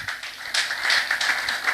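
Audience applause fills a member education meeting for a savings and credit cooperative, a steady wash of many hands clapping throughout, swelling slightly midway and staying fairly close and even.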